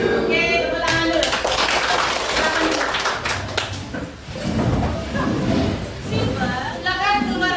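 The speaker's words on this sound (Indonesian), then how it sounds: "Oke, tepuk tangan dulu." A classroom of students claps together, a dense burst of applause that rises, dips briefly, then swells again, mixed with scattered voices.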